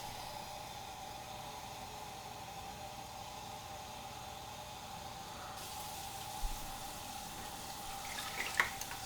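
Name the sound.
water filling a measuring cup for homemade kombucha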